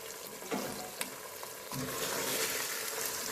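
Fresh green beans sizzle and crackle steadily in a hot pan, with scraping stir strokes and a brief louder surge partway through; close and continuous, no talking.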